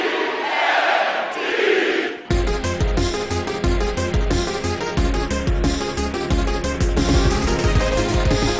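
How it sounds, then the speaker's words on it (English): A loud crowd roars and chants together, then a heavy rock music track kicks in and plays over the cheering. "Did you hear the crowd when she said"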